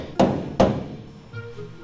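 Two sharp metallic hammer taps strike a pin being driven into a hole during truck repair work, close and distinct, followed by a quieter knock.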